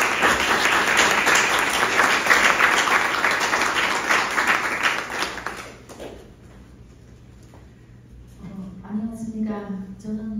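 Audience applause for a North Korean defector at a speech event: a steady, dense round of clapping fills the first six seconds, then fades, and a voice begins speaking near the end.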